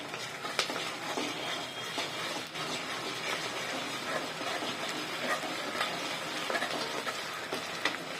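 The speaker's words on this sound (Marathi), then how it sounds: "1 चमचा लसूण अद्रक पेस्ट टाकते त्यात। ही सुद्धा चांगली परतवून घेऊया।" Garlic-ginger paste being stirred and sautéed in a pan for a Maharashtrian Bhogi mixed-vegetable bhaji, giving a steady close sizzle with scraping spoon strokes throughout, no voices.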